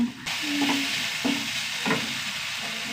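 Tomatoes sauté in a hot pan with a steady, close sizzle and frying hiss, broken by a few short scrapes of stirring.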